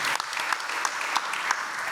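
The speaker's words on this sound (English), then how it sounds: "So let's give them a round of applause as well." Brief round of applause from an audience at a spring startup showcase event, a steady patter of many hands clapping at moderate volume with a few sharper claps standing out, no voices.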